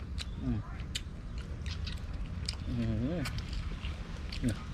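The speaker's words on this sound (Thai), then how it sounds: "หนังนี่กรอบกรุบกรับกรุบ กรับเลยพี่น้อง หนังกรอบ" Crunchy chewing of crispy roast duck skin, close to the mic, with short bite snaps scattered among bursts of talking.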